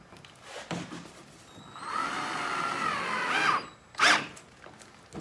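A small screwdriver bit drives self-tapping screws into wood during construction of a wood kiln lid: a steady whirring drill run of about two seconds, then a short sharp burst, close and fairly loud with no talk.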